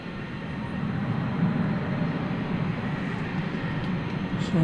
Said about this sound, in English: This would be an Embraer 170 coming in from Abilene.